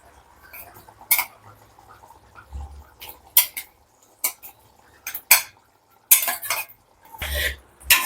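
Fried dried seer fish pieces going into a pot of thick, reduced Tamil-style curry, with scattered metal spoon clinks and pot scrapes in an irregular rhythm, close and moderately loud, with quiet gaps between the knocks.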